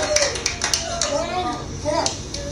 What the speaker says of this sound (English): Family applauding